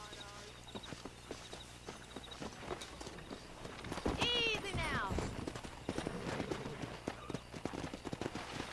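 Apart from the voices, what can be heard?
horses walking in a video game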